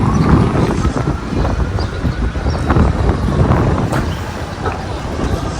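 Cold wind blows outdoors in Newark, a steady rough rumble buffeting the microphone throughout, with distant traffic beneath and voices present.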